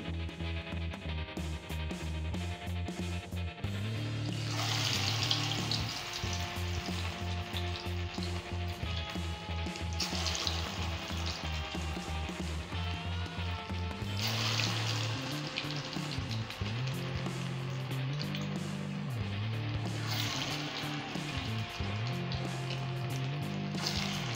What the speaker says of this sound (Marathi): आपली भजी छान तळली जात आहेत मस्त, तुम्ही बघू शकता.